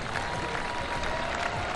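A street crowd applauds and cheers steadily as a howitzer passes in a parade, a dense, continuous wash of clapping heard from within the crowd.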